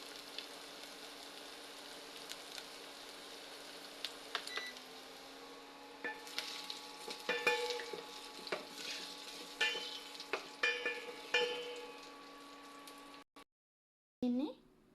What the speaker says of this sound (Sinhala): හොඳට මේ කොස් එකට තෙල් එක හොඳින් තෙම්පරාදු කරගන්න ඕනේ.